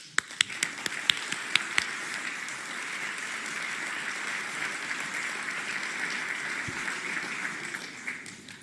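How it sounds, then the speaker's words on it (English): Audience applause at a presidential press conference on air traffic control reform: a few sharp, separate claps at the start, then a steady, even wash of clapping that holds for several seconds. "They deserve another round of applause."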